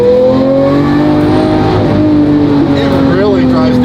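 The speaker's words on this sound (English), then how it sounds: "First gear downshift." A Porsche Carrera GT engine revs through a first-gear downshift, loud and close from inside the car, with its pitch sliding and climbing. A person talks over the engine note.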